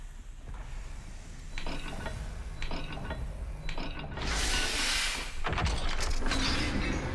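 Hidden maze door mechanism in Hogwarts Legacy grinding open, with several ratcheting, clicking mechanical bursts followed by a louder rumbling, scraping stretch as the stone door shifts, fairly close and with no talking.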